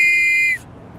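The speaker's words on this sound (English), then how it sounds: "He adopted the sound for a whistle he was making for the Metropolitan Police" A Victorian Metropolitan Police whistle blown in one loud, steady shrill blast lasting about half a second and then cut off abruptly, with only faint room noise after.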